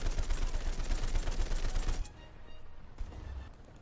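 In the War Thunder video game, a .50 cal machine gun fires a rapid, loud, pounding burst for about two seconds. Sparser impacts and rumbling battle noise follow at lower volume, with no voices.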